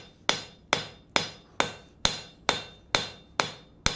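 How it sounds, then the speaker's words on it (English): A rounded face hammer strikes the edge of steel bar stock at the forge to draw out a tab, nine sharp, evenly spaced ringing blows about half a second apart, close and with no talking. "we're going to hammer on just the edge of it with a rounded face hammer to take and pull out a tab that is approximately 1 inch wide"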